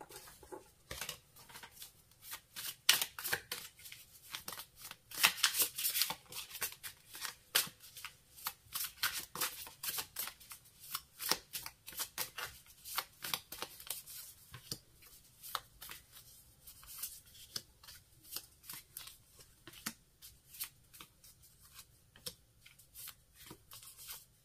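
Playing cards riffled and shuffled repeatedly for a small tarot-style card draw, producing a dense run of crisp flicking clicks with a burst of rapid riffling early on, close and fairly quiet.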